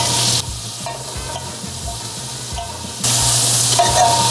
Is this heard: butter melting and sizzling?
yes